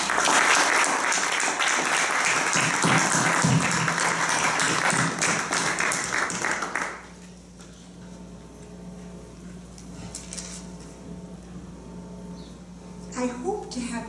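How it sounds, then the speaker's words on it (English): A conference audience in Lagos applauds the organizers and sponsors with a burst of dense clapping that lasts about seven seconds and then stops abruptly. Quieter room noise and a few faint taps and voices follow. "heartfelt round of applause."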